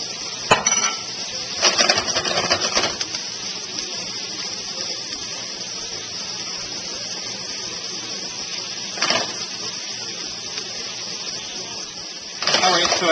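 Carrots and celery cook in olive oil in a pan with a steady, even sizzle. Now and then a utensil scrapes or clinks against the pan.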